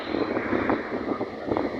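Gusty wind buffeting the microphone, a continuous rumbling roar with uneven swells, close and fairly loud.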